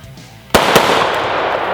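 A Century C308 battle rifle fires two sharp, loud gunshots in quick succession, close by, followed by a lingering reverberant wash.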